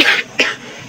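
Two short coughs from a person with a sore voice, close and fairly loud, the second sharper than the first, with no talking around them.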